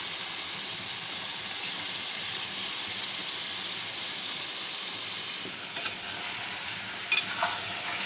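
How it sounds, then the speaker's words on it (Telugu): Chicken pieces coated in masala sizzle steadily in hot oil while being stirred, a close, continuous frying hiss with a few faint scraping stirs near the end. "మొత్తం ఒకసారి కలిగి మసాలా ఆయిల్ అంతా ముక్కలు పట్టే విధంగా కలుపుకోవాలి"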